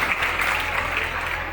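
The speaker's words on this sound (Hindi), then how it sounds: "एक बार जोरदार तालियां हो जाए मच्छर चलीसा की" Loud, dense applause from a festival audience at the Kalidas Mahotsav in Uchchaith, Benipatti, Madhubani, sustained evenly for the whole stretch without letting up.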